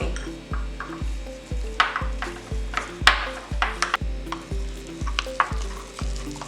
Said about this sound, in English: And I'm going to start mixing.